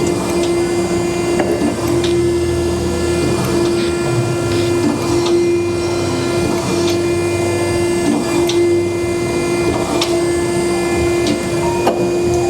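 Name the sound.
Okamoto surface grinder sparking out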